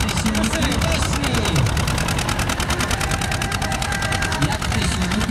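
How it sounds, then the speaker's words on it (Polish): Old tractor engines run together at a village tractor race, a loud, continuous, throbbing mechanical drone with a rapid knocking pulse, while someone talks over it. "Jak te silniki pięknie śpiewają, szanowni państwo."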